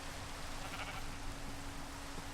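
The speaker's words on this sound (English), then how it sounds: "There's 3 white sheep here." A sheep bleats faintly in the Minecraft modpack Enigmatica 2, a brief nasal call sitting low in a constant hissy game background, no speech present.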